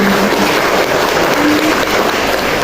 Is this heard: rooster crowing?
no